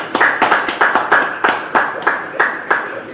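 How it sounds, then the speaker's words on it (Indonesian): A church congregation claps in a steady, fairly fast rhythm, with crisp, evenly spaced claps close by and nothing else competing. "Yang percaya, beri tepuk tangan bagi dia."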